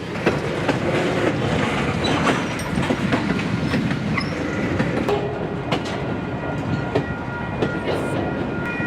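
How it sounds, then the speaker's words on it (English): A Canadian Pacific yard locomotive leads a short freight train with a caboose past the Kenwood Yard in Albany, New York, a steady loud rumble with rhythmic wheel clatter on the rails throughout. "we're gonna get to see a little freight train being led by the CP yard locomotive"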